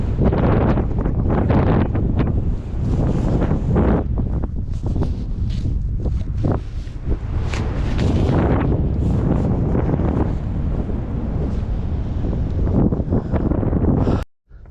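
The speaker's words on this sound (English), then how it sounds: "Windy up here." Strong gusting wind buffets the microphone at a high canyon overlook, a loud continuous rumbling roar with rising and falling gusts, ending in a brief sudden drop.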